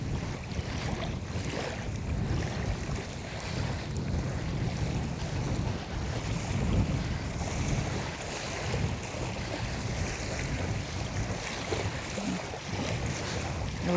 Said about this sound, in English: The river's up a bit higher than it was the last time.